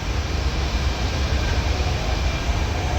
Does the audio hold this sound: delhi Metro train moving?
yes